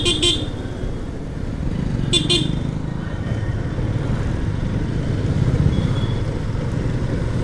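Horn honks from a motorcycle riding on a road, two short loud toots over the steady hum of the engine, wind and passing traffic.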